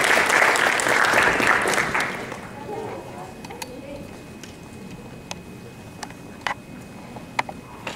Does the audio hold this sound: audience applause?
yes